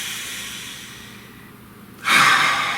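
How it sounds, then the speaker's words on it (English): One deep breath: a soft, quiet stretch gives way to a sudden loud, close, airy exhale or inhale near the end. "Nice deep breath, please."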